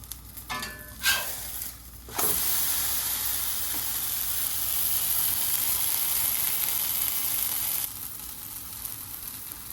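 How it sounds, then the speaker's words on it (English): Seitan brisket searing in a hot pan, a loud steady sizzle that starts abruptly after a few brief knocks and hisses continuously up close, then drops slightly near the end. "Now that it's seared on both sides, I'm going to turn off the heat"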